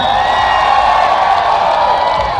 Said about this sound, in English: Give me a cheer last time.